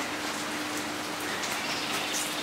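Rain pouring on a street outside a house, a loud, unbroken hiss of drops close by with no talking.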